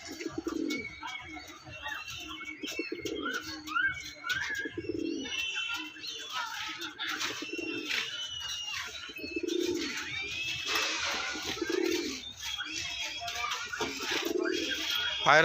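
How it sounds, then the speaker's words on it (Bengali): Two paired pet pigeons coo repeatedly in low, rhythmic bursts at close range, with a few higher chirps from other birds around them and faint voices underneath. "দুটোই জোড়া পায়রা"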